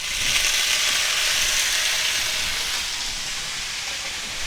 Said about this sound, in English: now we're going to add our asparagus to the pan here